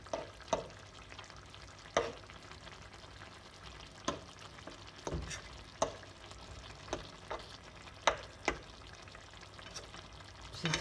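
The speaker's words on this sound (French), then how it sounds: "je fais des petits mouvements comme ça avec la fourchette pour que le blanc d'œuf se mélange bien, il se cuise bien" An egg in tchakchouka sizzling softly in the pan while a fork stirs it in small movements, with intermittent sharp taps and scrapes of the fork against the pan at irregular intervals over a steady low frying hiss.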